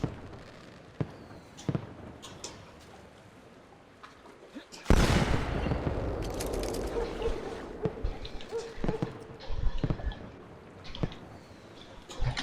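A pistol fires in Assassin's Creed 2, one loud sharp blast cutting in partway through and followed by scattered cracks and impacts, with a voice talking over the game sounds.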